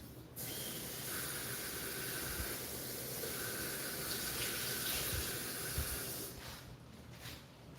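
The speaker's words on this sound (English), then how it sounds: "So basically, you'll put your water in." Water poured into a herbal tea maker, a steady, close hissing rush of running water that continues for several seconds and then tapers slightly near the end, with no voices.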